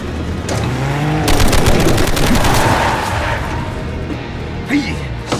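Gunfire in a Chinese animated jungle fight rattles out as a rapid burst of loud shots. Shouting voices and other battle noise come before and after the burst.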